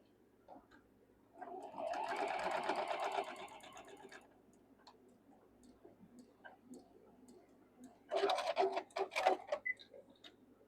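A sewing machine stitches quilt blocks in two short bursts of rapid mechanical whirring and clicking, the first about two seconds long and the second shorter, separated by quiet handling sounds.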